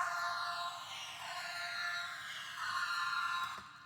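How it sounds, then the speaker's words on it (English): Sampled worship music with guitar and singing, heard as a washed-out, heavily processed layer of sustained tones, fairly faint and hazy, fading at the end with a few soft knocks. "they'll get a guitar out and sing some worship music at the end of the session"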